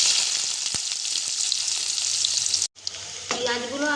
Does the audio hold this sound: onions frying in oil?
yes